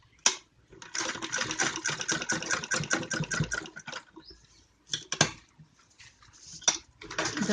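Domestic sewing machine stitching a double seam on a child's romper or jumper suit, several bursts of rapid mechanical whirring with short pauses and clicks between runs, close and fairly loud, no talking.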